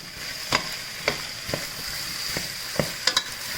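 Salted fish with leeks, tomatoes, onions and garlic browns in a pan, a steady soft sizzle broken by several sharp clacks of a spoon stirring.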